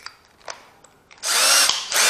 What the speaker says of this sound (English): We're going to go back to the first drill bit.